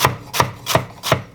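A kitchen knife chops food on a cutting board while a Spam burrito is prepared: four crisp, evenly spaced chops, close and loud, with no talking.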